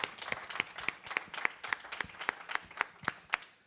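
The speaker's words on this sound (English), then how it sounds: "Let's give a round of applause." An audience applauds after a session talk, a steady run of crisp individual claps at an even rhythm, fairly quiet and heard with no talk over it.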